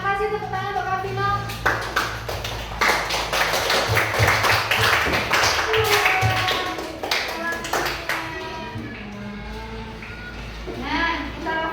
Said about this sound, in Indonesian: terima kasih tepuk tangan untuk Kak Vino.